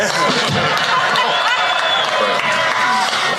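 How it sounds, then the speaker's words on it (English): Audience at a Guy Fawkes Bonfire Night show applauding and cheering after a stand-up comedy act, a dense steady wash of clapping and crowd noise throughout. "One more applause for King Ba-Dum-Bum."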